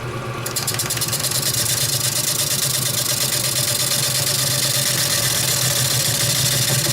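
A wood lathe turns a natural-edge bowl blank at about 500 RPM, giving a steady, loud motor hum with a constant low drone and no change in pace throughout.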